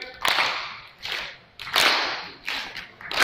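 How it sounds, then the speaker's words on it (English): A conference audience snaps fingers and claps together in unison, a steady repeating beat of sharp, crowd-wide bursts roughly every three-quarters of a second, filling the hall with no talking over it. "It's a snap and a clap. It's snap, clap. Everybody, go together."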